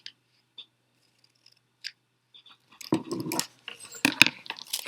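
Scissors snip fringe into paper strips, a few sparse isolated clicks at first, then a quick close run of crisp cutting snips and rustling paper.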